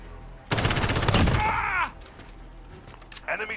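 An enemy sentry gun fires in Call of Duty: Modern Warfare as a rapid, loud burst of automatic shots lasting about a second, followed by ringing game sound effects and a few scattered later hits.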